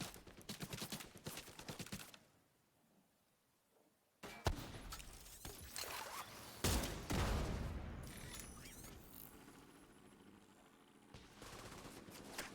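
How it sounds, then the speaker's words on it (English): Rapid turret fire rattles at a mini tank in The Division 2, bursts of automatic shots separated by a quiet gap, with heavier impact thumps and a crash partway through, fairly close and loud. "Come on, turret, take out that mini tank."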